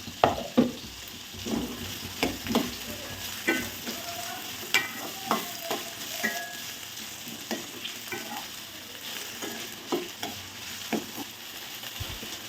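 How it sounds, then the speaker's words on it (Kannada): Potatoes and beans frying in a pan with a steady sizzle, while a spoon scrapes and stirs in a regular rhythm of sharp clicks, close up and with no voices. "ಅದಾದಮೇಲೆ ನೆಕ್ಸ್ಟು ಆಲೂಗಡ್ಡೆ ಮತ್ತು ಬೀನ್ಸ್ ಸೇರಿಸ್ತೀನಿ"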